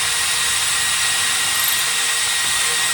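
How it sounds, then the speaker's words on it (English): A power drill boring a pilot hole in dimensional lumber while framing a model railroad staging yard, a steady high-pitched whine held continuously and close up with no talk. "Drill a pilot hole so"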